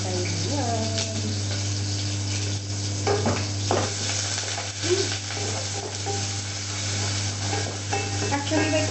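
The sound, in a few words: cooking and stirring food in a rice cooker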